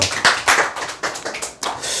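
Audience applause in a seminar hall, a short, irregular burst of hand claps, close and fairly loud, rising and thinning out over a couple of seconds.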